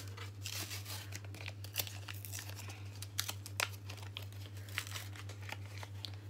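Lip gloss packaging being opened by hand, with repeated crinkling, tearing and rustling up close over a steady low electrical hum, no talking.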